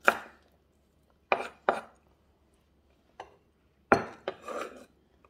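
Knife chopping kilawin ingredients into small pieces on a board, a handful of crisp separate cuts at irregular intervals, close and fairly quiet.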